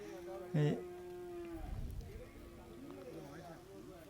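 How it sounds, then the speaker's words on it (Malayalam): Cattle, including bulls and bull calves, crowd a livestock market; one short, loud moo rings out early, then fainter lowing mixes with people talking in the background. "നല്ല സൈസുള്ള കാളകളും കാളക്കുട്ടികളും എല്ലാം ഇപ്പോൾ ഉണ്ട്"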